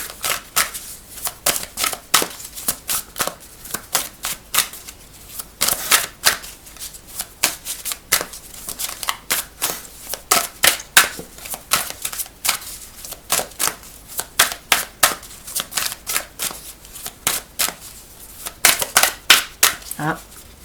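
Tarot cards being shuffled and drawn, a steady run of quick riffling bursts and sharp slaps, close and fairly loud, continuing for twenty seconds with no voice over them.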